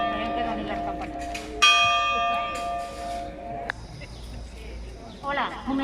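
Church bells ringing at an outdoor gathering, sustained resonant tolls that swell in with a fresh strike and then another, ringing out over a murmuring crowd.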